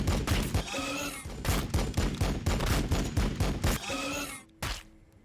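Rapid sustained gunfire in the Warhammer 40,000: Battlesector video game, dense overlapping shots rattling nonstop for about four seconds before a brief pause and one last burst, loud and close.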